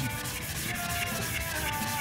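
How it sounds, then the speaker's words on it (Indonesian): Continuous steady rubbing of 600-grit sandpaper over putty on a car bumper, a dense close-up scratchy hiss with an even back-and-forth rhythm and no pauses. "kita amplas dengan menggunakan amplas ukuran 600"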